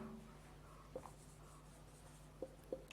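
A maths question is written out, with faint, soft scratching strokes and a few light taps over a quiet steady room hum.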